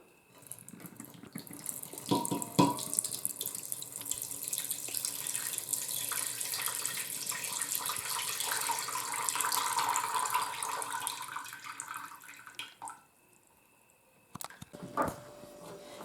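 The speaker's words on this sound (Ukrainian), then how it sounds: "Воду я позливала из баночок в кастрюльку сюда." Water poured from jars into a pot while preparing pickled tomatoes, a continuous splashing stream for several seconds that stops, followed by a few faint clinks and drips.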